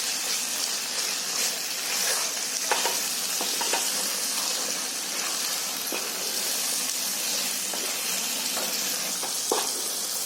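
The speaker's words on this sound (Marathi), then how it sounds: "अद्रक लसूणची पेस्ट पण आता चांगली फ्राय झाली बघा" Ginger garlic paste frying in a pan while being stirred for a Konkani mutton dish, a steady close sizzle with soft scraping strokes of the spoon throughout, no talking.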